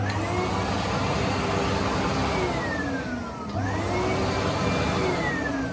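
A shop vacuum, switched on by remote in a woodworking shop near a table saw, roars steadily and loudly throughout, with its pitch dipping briefly midway before rising again.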